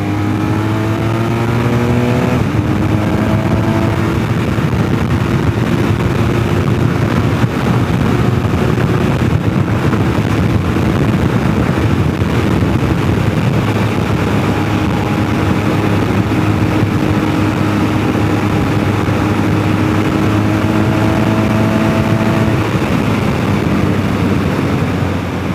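A 2023 BMW GS 1200 motorcycle's engine drones loud and close through a corner, its pitch sliding up and down with gear changes and throttle. Heavy wind noise runs steadily underneath and no one talks.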